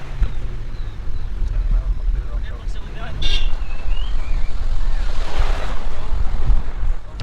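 Ocean waves at a beach roll in a steady, loud wash of surf, with heavy wind rumbling against the microphone throughout.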